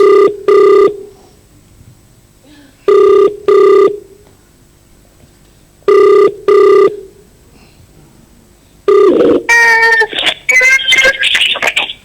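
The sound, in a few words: telephone ringing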